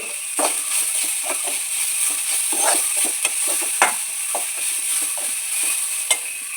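Grated coconut, onion, green chilli and turmeric frying in a pan with scraping stirs, a light sizzle running under repeated spatula strokes, close and moderately quiet.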